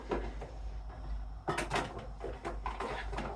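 A bathroom vanity drawer is pulled open with a soft slide and a couple of light knocks and clunks, heard close in a quiet room.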